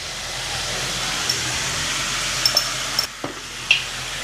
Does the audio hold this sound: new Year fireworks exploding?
no